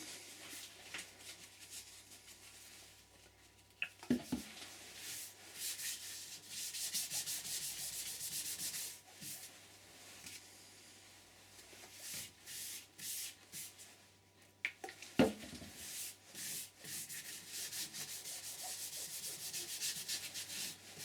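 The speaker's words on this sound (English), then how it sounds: "I'm going to put a bit of sanding sealer on there" Steady soft rubbing of sanding sealer onto a wooden bowl on a lathe, continuous friction with a couple of sharp knocks partway through, close and fairly quiet.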